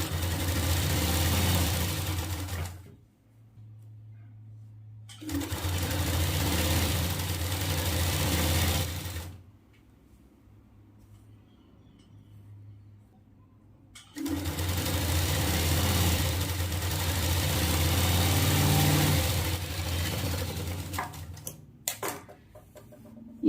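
A sewing machine runs stitches along a fabric edge during a beginner stitching lesson, in three sustained whirring bursts separated by short pauses, with a low motor hum between runs.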